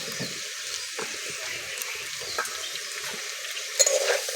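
Drumstick (sajne data) pieces go into a pan of frying potatoes for aloo posto, a soft sizzle with scattered clinks and scrapes of stirring, faint and uneven, a few louder knocks near the end.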